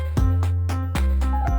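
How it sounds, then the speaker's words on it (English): A deep, sustained bass line rumbles beneath rhythmic plucked notes, with steady repeated hits roughly every quarter second. "And then I added some bass"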